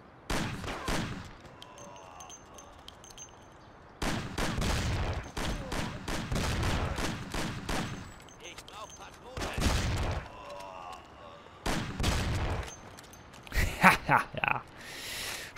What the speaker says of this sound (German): Schrotflinte ist super.